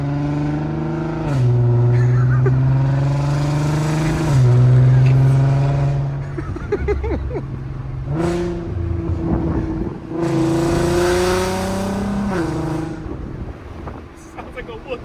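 A 2000s Volkswagen MK5 R32 with an ECS Tuning valved exhaust revs loudly in rising and falling pulls, its deep engine note swelling and dropping several times while people talk over it.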